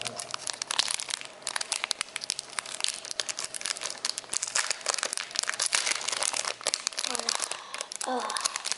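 Plastic card protector packaging from a trading card box is torn open, with dense crinkling and crackling close up while a person speaks softly throughout.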